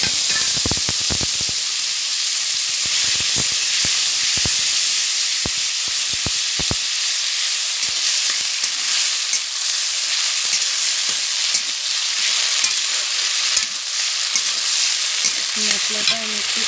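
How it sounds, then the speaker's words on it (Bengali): Spice paste of ground onion and tomato sizzling and frying steadily in hot oil with cumin, a continuous close hiss with scattered crackles and pops throughout, no voices. "মশলাটা আমি একটু কষিয়ে নেব।"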